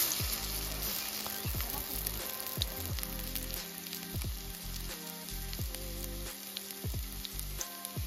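Thankuni leaf fritters deep-fry in hot oil over a strongly burning stove, with a continuous crackling sizzle, under a low rhythmic droning hum that pulses on and off.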